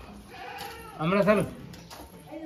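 A goat bleats loudly at close range in a brief wavering call, with people talking around it during a Rajasthan wedding procession.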